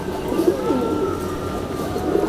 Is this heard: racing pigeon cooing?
yes